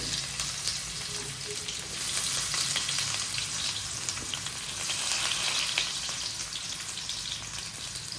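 Two thickly cut onions fry in hot oil with a loud, continuous crackling sizzle that swells slightly midway and carries on steadily with no talking.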